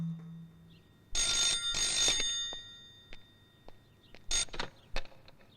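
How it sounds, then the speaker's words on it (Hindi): A telephone bell rings in two short bursts, pauses, then rings again more briefly, clear and close in a quiet room. "फोन उठाइए पापा।"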